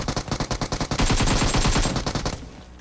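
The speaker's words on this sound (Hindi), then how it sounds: "पहले ऊपर एक बंदा शॉटगन चला रहा है" Rapid shotgun blasts in a PUBG Mobile match, a quick run of sharp evenly spaced reports followed by a denser cluster of overlapping gunfire that tails off, loud and close with no talk.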